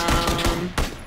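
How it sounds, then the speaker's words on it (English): Gunfire from the video game PUBG sounds as several quick, muffled shots in a loose burst, fairly close and loud. "Oh, I see. All the gunfire."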